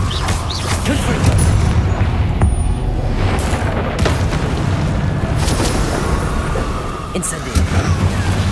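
Fiery explosions from the Confringo spell in Hogwarts Legacy rumble loudly and continuously, with booming bursts and crackle layered over a voice.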